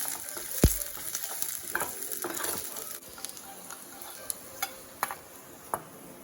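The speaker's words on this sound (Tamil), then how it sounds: "இந்த மாதிரி தனியாக பூண்டு வறுத்து நம்ம காரா பூந்தியில் சேர்த்துக்கலாம்" Garlic fries in oil in a kadai for a kara boondi snack, a constant soft sizzle broken by one early thud and a few sharp ticks and clicks, with no one speaking.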